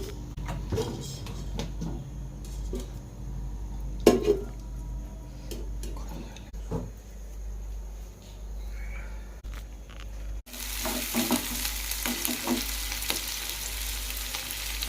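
Oil heating and frying in a kadai for chicken curry, a close steady sizzle with scattered ticks, a sharp knock partway through and a louder burst of crackling toward the end.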